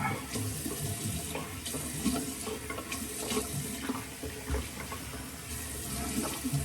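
A bathroom tap runs steadily while someone washes their face, a continuous close hiss and splash with small shifts of spatter throughout and no speech.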